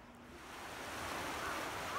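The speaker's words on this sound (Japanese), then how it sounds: "聞こえると思うんですけど、この川のせせらぎ" A river stream beside a glamping site flows with a soft, continuous broadband rush, faint and steady, gently swelling in loudness with nothing else on top.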